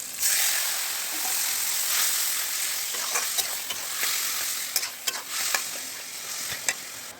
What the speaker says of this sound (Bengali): কচু শাকটা জাল হচ্ছে, কচু শাকটা একটুখানি শুকিয়ে নিতে হবে জাল দিয়ে।